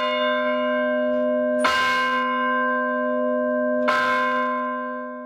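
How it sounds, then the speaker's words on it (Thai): Galiyong carillon bells at Santa Cruz Church in the Kudi Chin community, with two loud, clear strikes a couple of seconds apart, each leaving a long, ringing tone that hangs between strikes. "เสียงที่คุณจะได้ยินจากตรงนี้ก็คือเสียงระฆังฮะ"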